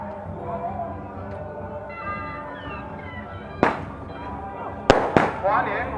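Welcoming firecrackers for a Taiwanese temple procession: after a stretch of crowd noise and voices, one loud crack lands, then a quick pair of sharp bangs with crackling tails, fairly close.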